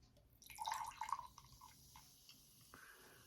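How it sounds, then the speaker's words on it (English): Mtn Dew Gingerbread Snap'd soda is poured into a glass in a short, quiet splash and trickle lasting about a second, followed by faint fizzing and drips. "Let's pour it in the glass."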